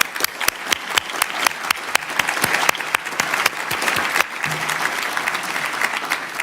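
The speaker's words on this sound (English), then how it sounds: "Let's give them a warm round of applause" An audience at a banking conference on European bank resolution applauds with sustained, dense clapping that carries on steadily and then thins slightly toward the end.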